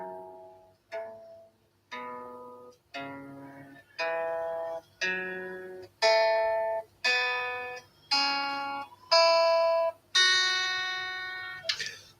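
Guitar playing a pentatonic scale slowly, about eleven separate plucked notes at an even, unhurried pace, each ringing and fading before the next, climbing in pitch, clear and close with no talking.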